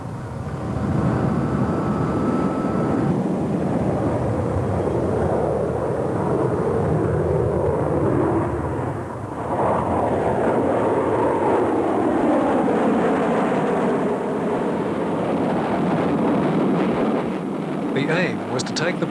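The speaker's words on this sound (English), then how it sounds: "the test pilot, Walter Smith, used the self-starter on the plane to get the engine going and then taxi the plane directly into its takeoff run." An A-4 Skyhawk jet roars steadily through its takeoff run after an engine start, a loud broadband rumble that keeps building, with a narrator talking over it.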